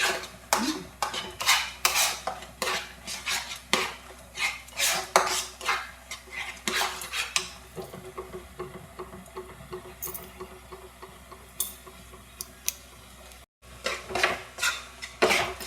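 Spoon scraping and clinking against a pan while a sticky mango sweet mixture is stirred, a steady run of close, sharp metallic taps and scrapes that thin out partway through.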